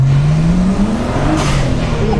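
Nissan Skyline R34 GTT engine heard from inside the cabin as a passenger, a steady loud drone with a low engine tone rising slightly, anti-lag setup, continuous throughout with a faint hiss near the end.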